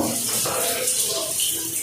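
Water runs steadily from a DIY single-point shower fed by a hot and cold mixing tap, a close, continuous hiss that holds an even level from start to finish.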